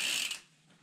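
Bicycle chain being turned by hand during cleaning with Muc-Off spray, giving a short soft ratcheting whir from the freewheel that fades after under half a second.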